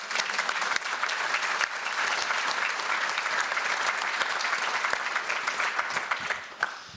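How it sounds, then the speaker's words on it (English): Steady audience applause at a downtown Richmond economic development luncheon, honoring partners seated on a panel; dense, continuous clapping from a large room that holds evenly for several seconds before thinning slightly at the end. "So can we give them a round of applause?"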